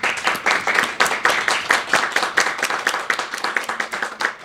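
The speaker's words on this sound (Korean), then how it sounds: "우리 박수로 축하해 맞이합니다." A church congregation at a Christmas celebration service claps together in a dense burst of applause, the sharp hand claps loud and close and fairly rhythmic, without any voices.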